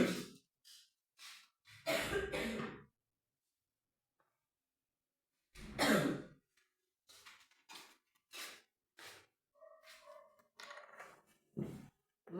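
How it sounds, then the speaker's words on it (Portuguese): A few breathy coughs separated by pauses, close to the microphone, with no other sound around them. "tá vendo que eu tô tossindo?"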